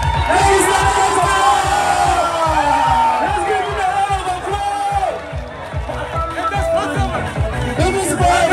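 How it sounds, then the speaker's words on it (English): Dense crowd cheering and whooping at a Ghanaian campaign rally welcoming Bawumia, loud continuous roar with shouts and a voice talking above it. "Let's give him a round of"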